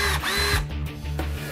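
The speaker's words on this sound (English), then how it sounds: "NASA didn't invent the cordless power drill" A cordless power drill whirs loudly up close, its motor pitch dipping and rising briefly as it runs.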